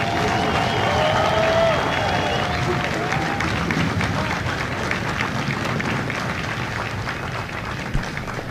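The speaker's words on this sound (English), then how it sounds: "please join me in a round of applause for the company staff of Company B" A large crowd at a U.S. Marine Corps recruit graduation at MCRD San Diego applauds the Company B staff, giving steady, loud, dense clapping that carries on without a break.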